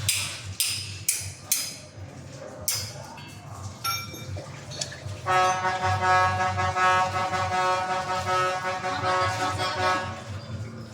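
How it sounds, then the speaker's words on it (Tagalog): A run of short car horn toots, then a long sustained honk blaring close by over street noise. "Ayos talaga mga banat ng busina nila."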